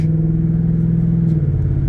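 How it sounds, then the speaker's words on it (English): Cars roll along a road nearby, a steady close engine hum and tire rumble with a slight rise in revving, continuous and fairly loud with no talking. "It's just like all these cars are coming down the roads."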